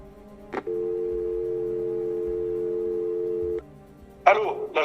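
A steady telephone tone holds for about three seconds after a click on a landline in 1985 France, as a farmer near Royan calls the gendarmerie. A voice starts right after the tone stops.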